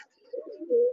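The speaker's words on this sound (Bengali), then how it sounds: "এদিক দিয়ে উপরে সিরাজি রয়েছে, বুনো রয়েছে। আমরা এখন এই সমস্ত পায়রাগুলোকে আপনাদেরকে দেখাবো।" A Sirazi pigeon coos at a pigeon farm, giving a short, soft, low warbling call close by, alone without talk.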